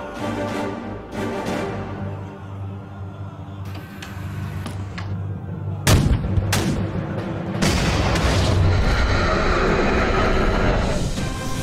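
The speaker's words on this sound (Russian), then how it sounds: "Артиллерия." Artillery fire in an animated war cartoon about a village: a deep rumbling bed gives way to sharp booming blasts near the six-second mark, then a sustained loud roar of bombardment continues to the end, with no talk.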